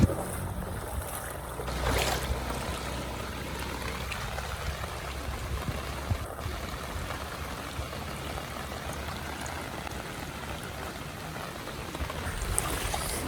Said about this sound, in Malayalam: ഈ കാണുന്നത് ഒരു പുഴയിൽ നിന്ന് ഒഴുകി വരുന്ന വെള്ളമല്ല കേട്ടോ, ഒരു റോഡിൽ നിന്ന് ഒഴുകി വരുന്നത്